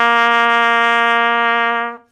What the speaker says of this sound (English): You don't press anything, and you just produce an open tone.